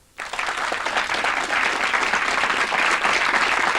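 A live town-meeting audience in Seattle bursts into loud applause after a brief quiet start, dense sustained clapping filling the rest of the clip without a break.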